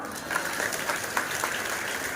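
A brief, steady burst of crowd applause at an election campaign rally, dense and continuous with no break for its full length.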